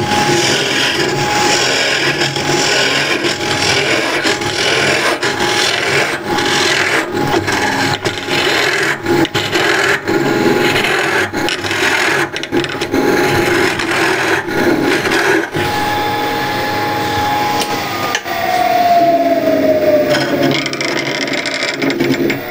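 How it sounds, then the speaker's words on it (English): Spindle gouge cutting into a spinning wooden box on a lathe while hollowing it, a loud continuous scraping rasp with irregular bites and chatter, close up and with no voices. "This is spindle gouge. I'm going to make quick work of hollowing."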